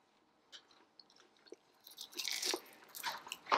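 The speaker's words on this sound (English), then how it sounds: "I'm eating the bone." Someone gnawing on a rib bone, close and quiet, with irregular crunchy bites and wet chewing that grow louder and denser toward the end.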